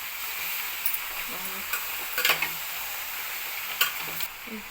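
Chicken curry sizzles softly in a pan under a steady frying hiss, with a few light scrapes and knocks from stirring.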